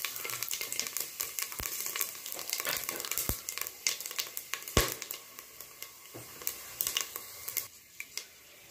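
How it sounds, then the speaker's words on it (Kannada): Bay leaf, cinnamon, cardamom and fennel sizzle in hot tempering oil for vegetable pulao, a steady close crackle with sharp pops and ticks scattered throughout, no talking. "ಒಗ್ಗರಣೆಗೆ ನಾನು ಪಲಾವ್ ಎಲೆ, 2 ಚಕ್ಕೆ, 2 ಏಲಕ್ಕಿ ಮತ್ತು ಸೋಂಪು ಒಂದು ಸ್ವಲ್ಪ ಎಲ್ಲ ತೊಗೊಂಡಿದ್ದೀನಿ"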